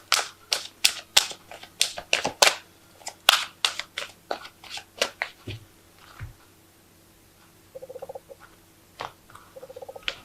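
Cards from an Archangel Tarot deck being drawn and handled, a run of crisp close snaps and flicks coming quickly at first, then thinning into sparser soft taps and rustles.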